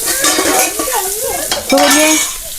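Onion goes into a hot pan and sizzles loudly up close while a utensil stirs and scrapes against the metal, with a brief clatter partway through and no talking.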